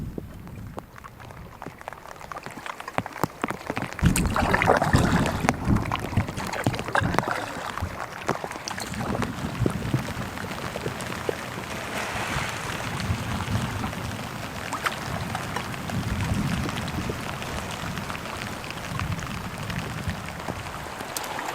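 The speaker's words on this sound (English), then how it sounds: "Nice calm paddling." Paddle strokes dip and splash in a loose rhythm as a canoe glides over a calm lake off the Slate Islands, with soft water trickles between strokes and no voices.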